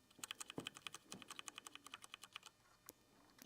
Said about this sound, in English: Brown switch keyboard.